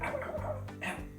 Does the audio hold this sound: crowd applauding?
no